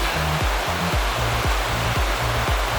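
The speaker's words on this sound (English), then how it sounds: "I wonder where all this water's coming from." Mountain snowmelt rushing along a stream on a trail, a loud steady broadband roar with a repeating low thumping pulse running underneath.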